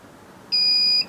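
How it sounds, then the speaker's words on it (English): A Switch2 control system gives a single short, high electronic beep lasting about half a second, clear and close over faint background hiss. "the little beep tells you that it has reversed the whole thing"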